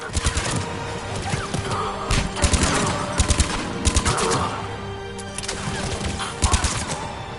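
Rapid bursts of automatic gunfire and crashing impacts as a pod comes under attack in the game Mass Effect 3, loud repeated volleys with short gaps between them.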